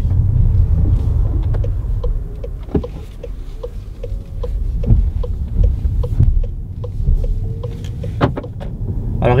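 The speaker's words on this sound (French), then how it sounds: "on entend les bruits de roulement des pneus" Tyre rolling noise inside a 2017 VW Golf GTE driving in electric mode, a steady low rumble with faint road clicks and knocks, no engine sound and no talking.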